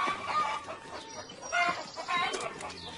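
Hungry chickens clucking in an animated children's cartoon farm scene, a few short fowl calls in quick bursts, moderately loud.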